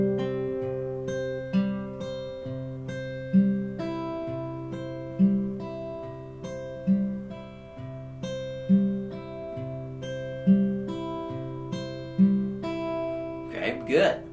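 Fingerpicked guitar plays the opening four bars of a song, steady plucked notes over a recurring bass pulse, close and clear, ending with a brief strum or scrape.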